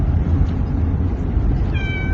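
A cat meows inside a moving vehicle over a constant low road and engine rumble. One short, clear, rising meow comes near the end, with no one speaking.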